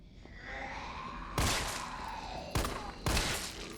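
Three loud, separate gunshots ring out in Resident Evil 3 Remake, spaced more than a second apart and each trailing off into a reverberant tail.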